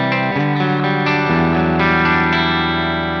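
An Enya Sonic JT electric guitar rings out chords through its built-in effects, thick with distortion and chorus-like shimmer, sustained and loud without any speech.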